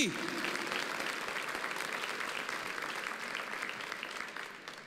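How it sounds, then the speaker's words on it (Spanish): Congregation applauding loudly and steadily at a church service, a dense even wash of clapping lasting throughout with no voices standing out. "Dale un aplauso bien fuerte al Señor."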